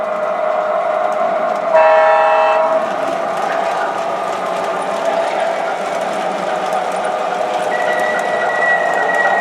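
Two MTH Proto 3 O gauge model diesel trains run on a small loop, a steady close rumble of wheels on track, with a brief horn toot near the start and a thin whistle tone toward the end.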